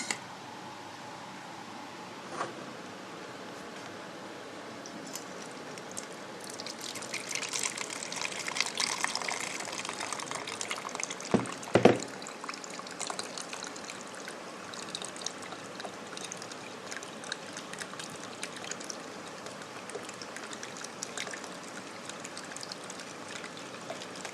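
Tomato juice strained through a sieve into a bowl, heard as a soft, steady watery trickle and pour that swells briefly midway, with no talk.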